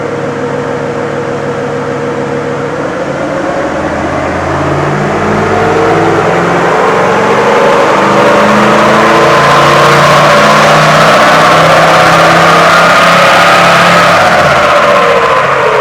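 A pre-DPF 76 Series Landcruiser diesel, rated at 100 kilowatts, runs up on a dyno. A loud, continuous engine and roller drone climbs steadily in pitch and intensity as the revs build, with a whirring whine on top.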